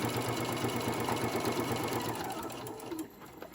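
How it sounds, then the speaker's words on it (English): Sewing machine running steadily as it stitches down the side of a fabric and vinyl key fob, a close rapid mechanical whir that slows and stops near the end. "I'm going to go ahead, sew this all the way down the side and back up the other side"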